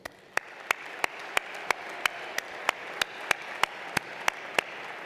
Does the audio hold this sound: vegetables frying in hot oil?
no